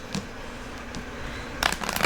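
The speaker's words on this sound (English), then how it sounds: "I'm going to shuffle again just quickly here in front of you so that you could see the shuffle as well" Tarot cards are shuffled in short bursts of crisp riffling, a faint flick early on and a louder rapid flurry near the end, close up against a quiet background.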